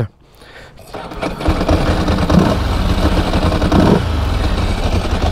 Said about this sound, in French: Le son d'un Ducati